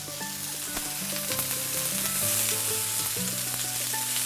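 Onions and red peppers fry in oil in a pan for corned beef hash, giving a steady, close sizzle throughout, with a few light scrapes and taps from the cooking utensils.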